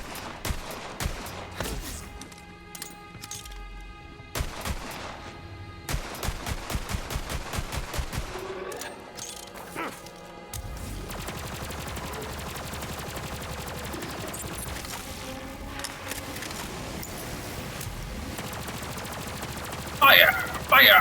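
Borderlands 3 gunfire comes in rapid bursts of sharp shots, with quieter gaps between them, then gives way to dense continuous combat noise and a few loud bangs near the end.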